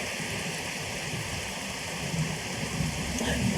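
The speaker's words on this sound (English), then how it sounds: "trying to avoid the rain here, but so much for that" Steady rain falls outdoors beside a river in Estonia, a dense, even hiss of drops on surfaces that continues unchanged throughout, with no voices.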